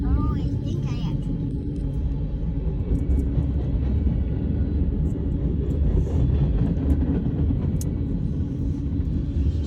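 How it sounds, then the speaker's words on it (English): A mile-long freight train pulled by seven yellow and white locomotives rolls past with a steady, continuous rumble and rail noise throughout, close and loud, while people talk over it. "this is a lot of train cars."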